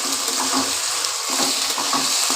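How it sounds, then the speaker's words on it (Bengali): Finely chopped potatoes fry in a pan, giving a steady, loud, close sizzle that crackles continuously throughout, with no voices. "আলুগুলোকে লাল লাল করে ভেজে নিই"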